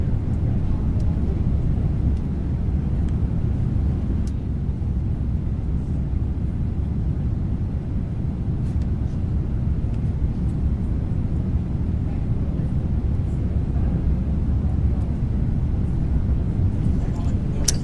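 Steady, dense cabin roar of an airliner in flight on a long trip from Detroit, a constant low rumble with faint clicks and rustles scattered through it.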